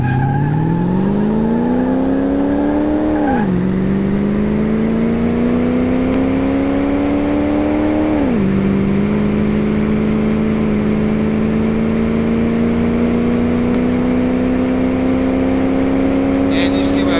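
Race car engine in Car Mechanic Simulator 2018 driving hard on a large race track, loud and steady with rising revs and two gear shifts where the pitch drops before climbing again, whirring on continuously throughout.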